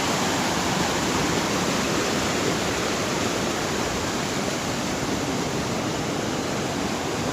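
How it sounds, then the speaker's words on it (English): A mountain creek rushes loudly and constantly, a dense roar of churning water close by with no breaks. "Pretty and powerful. This is Weminuche Creek."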